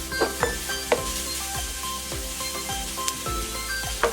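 Garlic and onions sautéing in a pan for Filipino menudo, with a loud, continuous sizzle broken by regular scraping strokes of a spoon, close up and with no speech.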